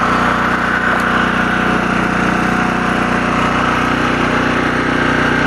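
Honda generator running steadily outdoors after an ice storm, a loud, constant engine drone with no break across the whole stretch.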